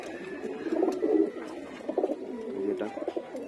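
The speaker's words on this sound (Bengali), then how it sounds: "এটা সম্ভবত একটা নর কবুতর।" A male pigeon coos nearby, a guest bird settling into a home nest, giving several low, rolling coo phrases in a steady rhythm, alone and moderately loud.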